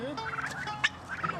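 Bronze turkeys on a farm give a short burst of close gobbling, a quick rattling call standing alone over faint background.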